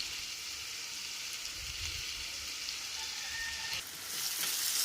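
Onion, tomato and curry leaves sauté in a pan for a Kerala-style chicken roast, giving a soft, steady sizzle close by with a little stirring noise and no talk.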